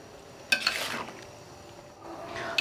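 A spoon scrapes and stirs boiled rice into bubbling jaggery syrup in a pot, with a sharp clatter at the start, a soft simmering sizzle throughout and a second burst of stirring at the end.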